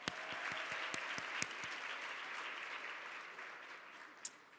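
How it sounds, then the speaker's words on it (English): Applause from the audience at an awards luncheon, opening with a few distinct near claps that swell into a steady, fairly soft wash of clapping around the room. "let's all take a moment once again to applaud all of our extraordinary luminaries for their amazing contributions"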